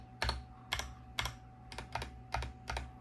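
Enter key presses on a mechanical keyboard make six evenly spaced, close clacks with a low thock beneath each, with no voices.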